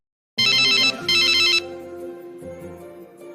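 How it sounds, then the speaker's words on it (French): A telephone rings in two loud electronic bursts, followed by a quieter ringback tone after a phone call is placed at home. "Erika, chez elle, prend son téléphone et appelle Sephora"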